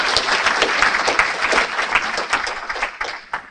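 An audience in a meeting room breaks into continuous, dense applause welcoming a speaker to the stage, loud and close, with no voices over it.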